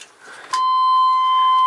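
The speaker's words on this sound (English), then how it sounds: "Buzzer works." A vehicle's dashboard warning buzzer sounds during an electrical check on a project truck: a brief rustle, then a loud, steady electronic tone that holds unbroken to the end, close and with no talking.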